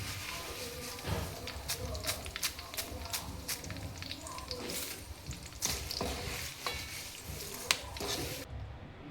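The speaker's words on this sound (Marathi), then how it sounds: "कढीपत्ता तळून घ्यायचा आहे छान असा।" Curry leaves fry in hot oil for chivda, a dense crackling sizzle with repeated sharp pops and stirring clatter throughout, close and fairly loud.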